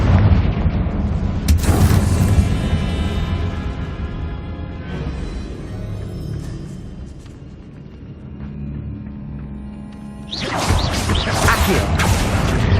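A Confringo blast spell in Hogwarts Legacy, cast inside a tall room: a loud burst opens near two seconds, a sustained rumbling, ringing roar dies slowly, then another bright crackling blast erupts near the end.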